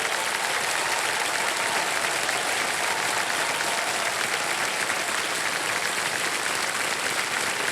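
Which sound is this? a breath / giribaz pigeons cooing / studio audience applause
studio audience applause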